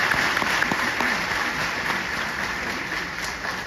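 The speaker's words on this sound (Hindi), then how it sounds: "ताली तो बजा दी आपने" An audience at a youth convention in Sikkim claps in a steady, dense round of applause that fades slightly toward the end, heard alone without speech.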